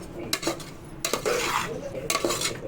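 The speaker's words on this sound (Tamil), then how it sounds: "அதே போல் அது கூட போட்டு இதை வதக்குறோம்." Chicken with onion and tomato sautéing in a pan for chicken kulambu, with a spoon repeatedly scraping and clanking against the metal over a soft sizzle.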